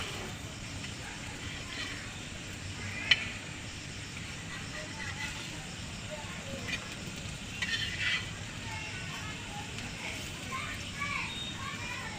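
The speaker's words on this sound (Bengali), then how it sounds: "মাছগুলো আমার ভাজা হয়ে গেছে" Oil sizzles faintly and steadily in a pan of frying fish, with a few light clinks of utensils and muffled voices in the background.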